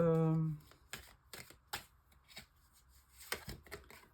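Tarot cards are shuffled and handled close by in a quiet setting, a short riffle at the start followed by scattered soft snaps and taps of cards at irregular intervals.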